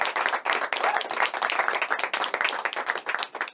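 Audience at a magic show applauding, a dense burst of clapping from many hands that fills the room, steady and fairly close, with no voices over it.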